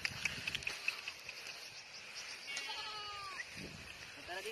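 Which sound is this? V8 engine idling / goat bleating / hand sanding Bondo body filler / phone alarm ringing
goat bleating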